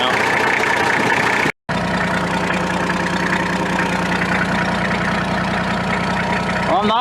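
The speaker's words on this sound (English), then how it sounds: "Not that there's any lack of noises in one of these diesel Landcruisers" Diesel Toyota Land Cruiser engine idling with a steady low rumble and rapid knocking clatter, loud and close, cut by a brief dropout near the start, with an exhaust leak nearby.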